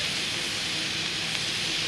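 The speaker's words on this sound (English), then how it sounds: "Cooking steam." Steady broadband hiss of steam rising from potatoes cooking over a campsite fire, constant and close with no talking.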